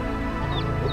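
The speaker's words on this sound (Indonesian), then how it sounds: "Itu anak ayamnya." A baby chick near a river gives two quick high, thin chirps, nearby and clear over a steady low background rumble.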